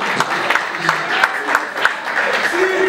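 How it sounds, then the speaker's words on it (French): A church congregation applauds, with rhythmic claps in a steady beat mixed with voices and music, loud and close. "Acclamons très fort."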